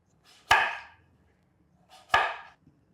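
Two firm, crunchy knife cuts into a butternut squash at an angle, each a sharp crack followed by a short rasping drag, about a second and a half apart, close and clear against near silence.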